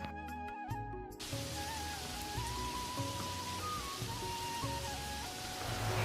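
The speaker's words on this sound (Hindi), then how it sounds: "तुमने देखा बाहर कितनी जोर से बारिश हो रही है" Heavy rain pours down outside a house with mud walls, a steady, dense hiss that carries on throughout, with soft melodic tones sounding over it.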